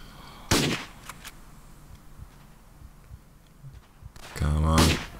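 Two sharp rifle shots crack out in the Verdun video game, one near the start and a louder echoing one near the end, separated by quiet background clatter with occasional speech.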